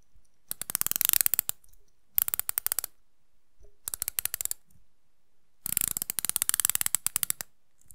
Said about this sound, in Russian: Безель не статичный, безель, как положено, вращается против часовой стрелки. 120 кликов, я предлагаю его послушать.